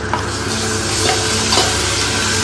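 Onion and garlic fry in a pan while being stirred, a continuous close sizzle with a few scraping stirs and no talking.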